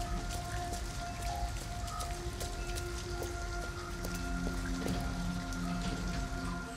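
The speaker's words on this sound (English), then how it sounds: "At least we'd be out of the rain." Rain falls steadily in the video game Detroit: Become Human, a constant close patter of drops on surfaces with faint sustained tones beneath, no talking.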